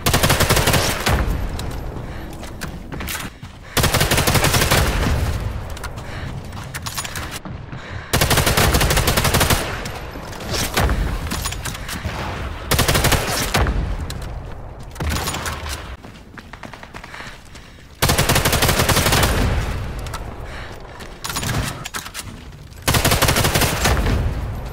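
Machine gun fire in Sniper Elite 5 multiplayer, loud sustained bursts of rapid automatic shots lasting several seconds each, separated by brief quieter gaps with echoing tails.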